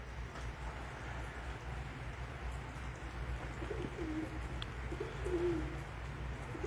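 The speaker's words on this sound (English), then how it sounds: "that stupid pigeon that needs to go away" Pigeon cooing inside a horse barn, a few soft low coos partway through, faint against steady low background rumble.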